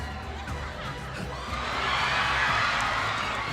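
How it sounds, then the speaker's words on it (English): A large esports arena crowd at the M5 World Championship knockout stage cheers and shouts, a broad roar that swells louder halfway through and holds steady. "The crowd loves it."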